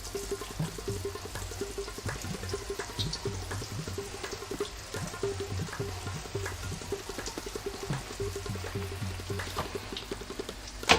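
Bread pieces for shahi tukray fry in hot cooking oil in a pan. A close, continuous sizzle carries scattered sharp crackles and pops throughout.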